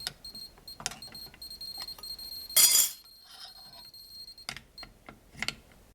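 A Geiger counter registers beta radiation passing through thick aluminium, giving sparse, irregular sharp clicks at a low count rate, with a brief louder burst midway, close and without talking.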